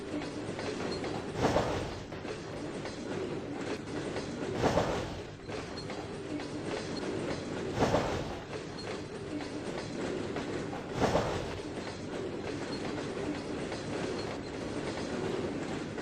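A freight train rolls along the rails in the Trainz 2022 simulator, a steady rumble with a regular clickety-clack of wheels over joints recurring every few seconds.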